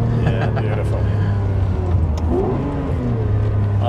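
A manual-conversion car with about 500 horsepower pulls hard in third gear, its engine droning in a steady, loud, close note under a rising whine, with people talking over it.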